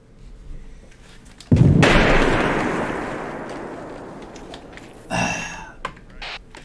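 A frag grenade explodes in a tactical shooter game, a single loud close blast with a long rumbling decay, followed a few seconds later by a shorter burst of further noise.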